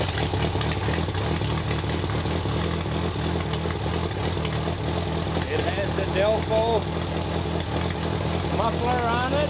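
A 1945 Waukesha ICK engine serving as an auxiliary power unit idles with a steady, loud, close mechanical chug throughout, fitted with a muffler, while a voice speaks over it.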